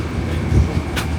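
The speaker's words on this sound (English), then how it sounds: "You can see how long our train is." California Zephyr passenger train at a station gives a brief, steady low rumble with a faint metallic rattle.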